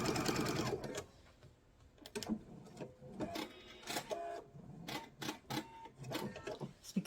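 Sewing machine stitching a small mug rug, bursts of rapid mechanical chatter starting and stopping repeatedly, close and fairly quiet, with brief pauses between runs.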